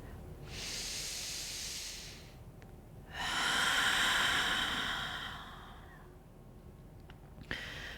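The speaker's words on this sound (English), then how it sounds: "sink into the breathing while you deepen your breath with each circle that you take" Slow, deep yoga breaths, close and airy: one long exhale, a pause, then a fuller drawn-out breath, with a faint click near the end.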